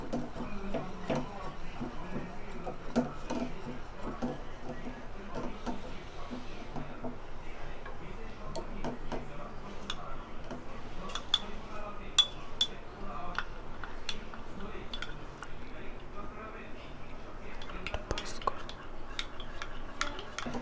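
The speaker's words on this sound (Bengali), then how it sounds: "পাউডারের যে মিশ্রণটি সেটি ঢেলে দিলাম এবং একটি হুইস্কের সাহায্যে এটা অনবরত নাড়তে থাকবো" A whisk beating custard powder mixture in a bowl, a continuous run of quick light ticking and clinking strokes against the bowl, steady and close throughout with no talk.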